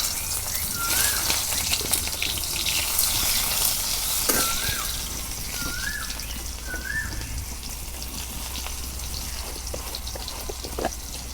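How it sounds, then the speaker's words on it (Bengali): Onions sizzle in hot oil in a pan after fish frying, with a steady, close hiss and occasional stirring. A few faint bird chirps sound in the background. "তেল গরম হচ্ছে, আমি পেঁয়াজ দিয়ে দিই।"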